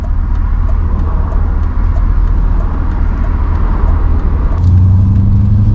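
Steady engine and road noise from inside a moving BMW E38 740i L V8 in drive, a continuous low rumble with a deeper engine note swelling near the end.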